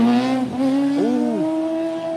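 A vehicle pops a wheelie, its engine revving in a loud sustained tonal whine that swoops up and down in pitch, close by and with no talking.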